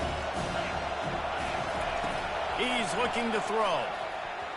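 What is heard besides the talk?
football stadium crowd cheering on third down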